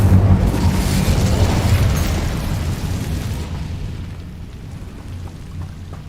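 A fire spell cast in a video game: a loud, broad whooshing roar bursts at the start, holds for a few seconds, then fades into a lower rumbling crackle.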